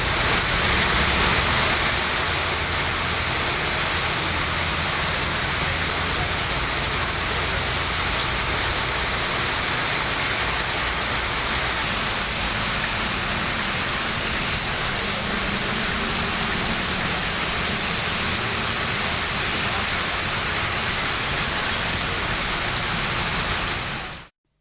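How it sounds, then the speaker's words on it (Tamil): Heavy rain pours down steadily in Tamil Nadu, a dense, loud and unbroken hiss of falling water that lasts throughout and then cuts off abruptly at the end. "செங்கல்பட்டு மாவட்டம் சிங்கப்பெருமாள் கோவில், திருத்தேரி, மகேந்திரா சிட்டி, பேரமனூர் உள்ளிட்ட பகுதிகளில் பலத்த மழை பெய்தது"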